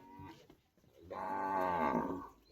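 A buffalo on a Maldhari livestock farm in Gujarat lets out one long, loud, drawn-out moo, preceded by a few brief softer grunting calls.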